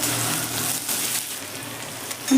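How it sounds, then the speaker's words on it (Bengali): Onion and grated ginger frying in oil while being stirred, a steady close sizzle with soft scraping throughout, no voices. "আদা দিয়ে হালকা নেড়ে"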